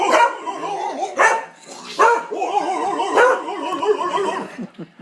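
Dogs barking while playing, several loud, sharp barks and yips in quick bursts with excited whining between them, close by and without speech.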